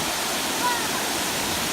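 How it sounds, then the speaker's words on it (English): Amicalola Falls roars from its very top, a steady, dense rush of falling water filling the air with no pauses. "so we're at the very top of this waterfall."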